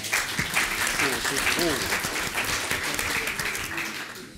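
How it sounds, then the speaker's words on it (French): A French audience at a housing-law event applauds two parliamentarians with steady, dense clapping that fills the room, while a voice speaks faintly underneath. "ces deux parlementaires méritent qu'on les applaudisse"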